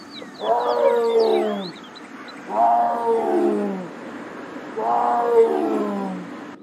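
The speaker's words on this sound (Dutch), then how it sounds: "Die tijger die ziet er best lief uit." A tiger in a virtual reality game gives three long, loud, growling roars with falling pitch, evenly spaced over several seconds, alone without talk.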